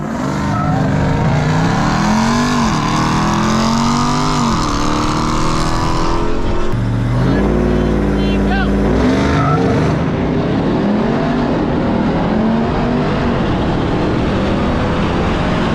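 A 2023 Ford Raptor R and a Ram TRX drag race, loud and close, with engines roaring and climbing through gear shifts, a brief lull mid-run, then sustained high-revving acceleration.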